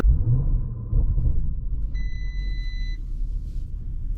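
A 2019 Lamborghini Urus launches from a standstill, a loud, deep engine roar at the start that settles into a steady low rumble, with a brief electronic chime partway through.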